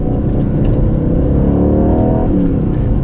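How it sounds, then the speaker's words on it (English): A 2020 Aston Martin Vantage on the move, its engine and exhaust giving a loud, continuous low burbling growl with a rising rev heard from inside the car. "The exhaust definitely has a burble tune on it."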